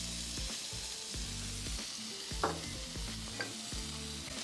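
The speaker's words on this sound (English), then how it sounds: "we're gonna start frying up the onions and the veggies" Onions, carrots and other vegetables sizzling and frying on a hot griddle, with a steady crackle and occasional scraping of a utensil stirring them.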